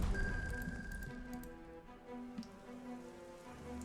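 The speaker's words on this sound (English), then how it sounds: "Oh no, it's raining." Steady rain patters across a surface in the strategy video game Strategic Mind: The Pacific, a soft continuous hiss with scattered drops, alongside a low sustained tone and faint clinks, no voices.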